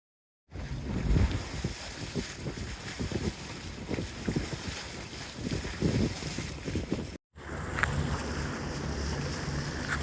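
A cruising boat motors into an anchorage off Anclote Key on the Gulf coast, with a steady engine and water rush under heavy wind buffeting, broken by a brief cut in the sound.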